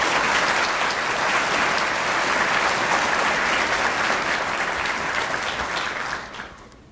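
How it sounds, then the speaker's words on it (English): A graduation audience breaks into loud, sustained applause, dense clapping from a large crowd that holds steady for several seconds before tapering off at the end. "please give them the applause they so richly deserve"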